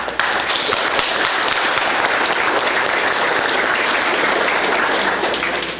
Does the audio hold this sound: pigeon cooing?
no